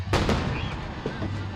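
Fireworks bursting at an international village festival: two sharp, loud booms close together, then a crackling tail with softer pops fading under a steady outdoor rumble.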